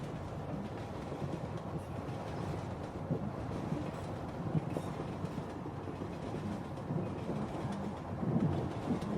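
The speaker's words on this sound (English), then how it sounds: "The sound of the train's movements are relaxing, to say the least." A moving train rumbles steadily from inside, a low continuous rolling drone with faint rhythmic rattles, fairly quiet and without voices.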